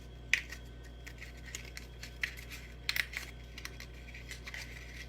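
Scissors clip the corners of a sheet of paper in a quiet room, giving a few short, sharp snips spaced irregularly over a low steady hum, close but soft.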